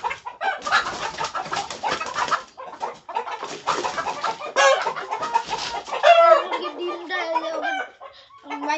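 Kadaknath chickens on a farm cluck and call in busy, overlapping bursts, with a few louder squawks and bird calls standing out near the end, fairly close and with no talk over them.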